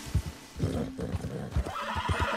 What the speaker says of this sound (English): The horse is agitated by...